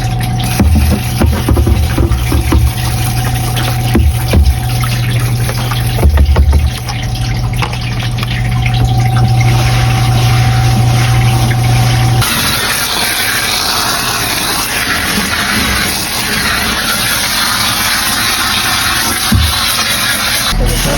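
Water rinsing out a Manitowoc Indigo ice machine during cleaning, a steady wash of running and splashing water over a low machine hum, continuous and close, with the tone shifting partway through.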